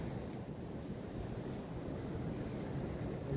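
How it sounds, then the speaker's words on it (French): Steady wind buffets the microphone at sea off Boulogne at night on a fishing outing, mixed with continuous surf and water rush, loud and unbroken with no voices. "Le vent, il a commencé à se calmer."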